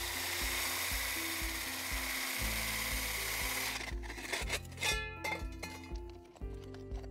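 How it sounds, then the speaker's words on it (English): A power drill bores a 4-inch hole through an external wall into the subfloor for a radon sump, grinding steadily with a rhythmic low churn, then breaking into rougher scraping and clinking toward the end. "To create a radon sump, you first drill a 4-inch hole through the external wall into the subfloor."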